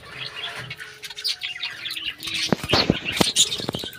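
Small pet birds eating neem-leaf greens chirp continuously nearby, with rustling and short bursts of wing flapping growing louder toward the end; no one speaks.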